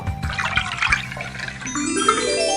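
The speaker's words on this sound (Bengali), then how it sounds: "এবারে কলসিটাকে ভালো করে জল দিয়ে ধুয়ে দাও।" An earthen pot is washed as water splashes and gurgles into it, starting with busy splashing and shifting into a steady pouring, filling sound, close by with no talking.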